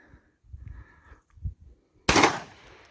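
A single loud, close shotgun blast from an Aksa Crossfire .410 (36 cal) on a year-end shooting outing, sharp and ringing, after a few soft low thumps and rustles.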